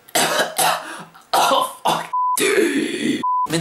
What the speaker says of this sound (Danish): du prøver at hoste ind i mikrofonen